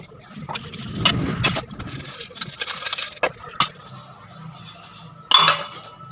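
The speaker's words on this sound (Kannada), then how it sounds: "ಪಾತ್ರೆ ಒಂದು ಬೆಳಗಾಗ ದೊಡ್ಡ ಕೆಲಸ ಫ್ರೆಂಡ್ಸ್" Metal dishes and utensils being washed at home, with scattered clinks, scrapes and clatters in short bursts and a sharp louder clank near the end, close by.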